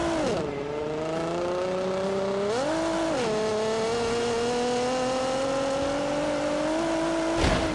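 A car on a fast flying lap, its engine loud and close, rising in pitch through the gears and dropping back as it brakes for corners, then pulling hard again.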